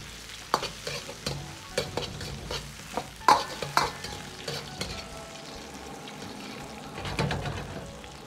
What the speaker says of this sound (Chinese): 炒至五花肉出油脂，表面稍微焦黄